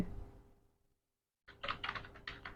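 Keys on a computer keyboard clatter in a quick burst of taps close by after a moment of near silence, while a roll number is entered for an online polytechnic admission result check.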